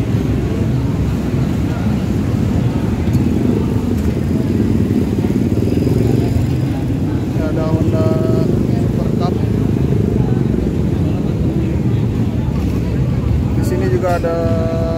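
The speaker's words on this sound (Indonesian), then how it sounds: "Wah, ini ada motor chopper yang pasti kalian tahu nih." A chopper motorcycle engine running at a motorcycle gathering in Jakarta: a loud, steady, low rumble that continues unbroken, with faint voices and brief tonal sounds around it.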